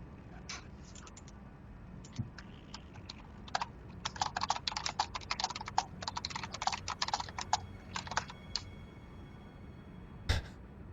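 Rapid bursts of typing on a computer keyboard, irregular clusters of key clicks at moderate closeness over a low steady background hum, with a single sharp louder knock near the end; no one speaks.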